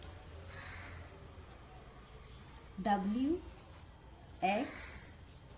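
Pen writing by hand during a geometry lesson, a faint scratching of strokes on paper at the start, then someone speaks over it in two short bursts.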